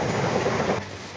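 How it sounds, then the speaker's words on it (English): A train passes along the railway line right behind a London garden, its steady rumble and clatter filling the whole stretch before easing slightly near the end. "There's the train."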